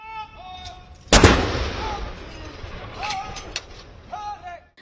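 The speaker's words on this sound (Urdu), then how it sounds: "جلوس نکلنے پر ہائیڈ پارک میں توپوں سے گولے داغ کر ملکہ کو سلامی دی گئی" A single loud gun salute boom cracks out and rumbles away in the open air of Hyde Park, London, during a royal procession, with distant crowd murmur and calls around it.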